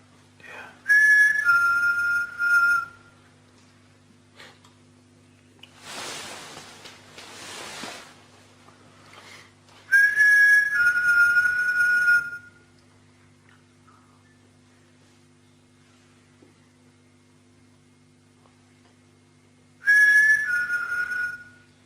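Whistling during a late-night ghost hunt in a quiet town, three separate bursts of clear, fairly loud whistled notes with long near-silent gaps between them and a steady low hum underneath.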